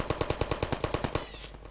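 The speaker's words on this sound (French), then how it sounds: "La tourelle, bon, à part que c'était compliqué, là, on dirait de la mitraillette." Turret machine gun firing in the video game Garry's Mod: a rapid, evenly spaced burst of about a dozen loud close shots, ending abruptly with a short fading tail.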